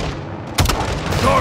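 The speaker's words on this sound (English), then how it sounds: "Gaz, hit him with the launcher." Rocket launcher hit in Call of Duty Modern Warfare 2: a sharp, loud blast cuts through dense ongoing battle noise and gunfire, followed by a rumbling tail.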